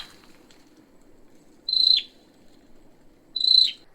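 Two clear, high-pitched whistled bird phrases sound in a secondary-growth Vietnamese forest, each about a third of a second long and spaced well apart, over a steady low hum of insects.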